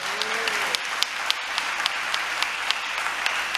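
Church congregation clapping together in a steady, continuous patter of hands, moderately close and filling the room, with a low hum underneath.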